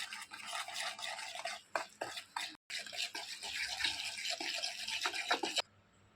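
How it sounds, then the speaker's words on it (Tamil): Whisk beating a batter of Horlicks, milk powder, gram flour and oil in a bowl, a steady scraping, slapping rhythm that runs close and continuous with one brief pause, then stops near the end. "இதை கட்டிகள் இல்லாமல் பீட் பண்ணிக்கலாம்."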